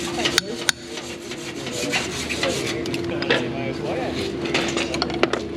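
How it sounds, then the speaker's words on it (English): Farrier rasping a horse hoof at a clinic, a steady rhythmic rough scraping close by with occasional metallic clinks, while a voice speaks briefly over it. "Rasp it right and up."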